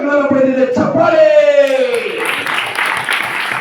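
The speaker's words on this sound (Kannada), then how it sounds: "ಚಪ್ಪಾಳೆ." Audience applause in a classroom quiz setting, a voice first sustains a loud shout, then a wash of clapping and crowd noise takes over for the last couple of seconds.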